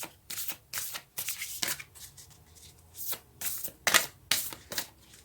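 Tarot cards are shuffled in a quiet room, close and crisp, with about ten short riffling bursts separated by brief pauses and no voice over them.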